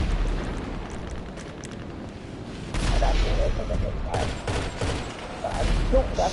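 Gunfire in a multiplayer video game heist match, bursts of rapid shots and booming impacts that grow louder partway through, mixed with faint talk.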